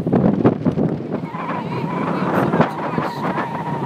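Strong wind gusting at the seaside, blustering into the microphone as a loud, continuous rumble throughout, with a kite flapping and folding nearby.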